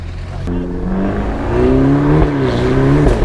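A Ferrari accelerates from close by, its engine note climbing steeply through the gears, loud and near, with a short drop between shifts.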